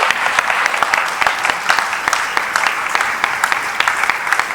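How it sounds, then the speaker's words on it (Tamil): Audience applause for the winner of a Tamil cooking contest final, steady dense clapping from a crowd that fills the whole stretch, loud and close, with no voices over it. "ஒரு பலத்த கைத்தட்டல் கொடுத்துடலாமா?"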